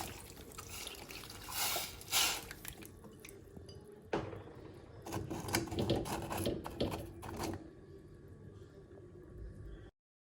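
Water pours from a jug onto sugar in a cooking pot, giving a close, steady splashing and trickling stream with a few louder gushes that runs for several seconds, then stops abruptly.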